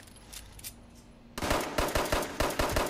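Rapid gunfire from a Fallout firefight crackles up close in a fast burst of about eight sharp shots after a quieter moment.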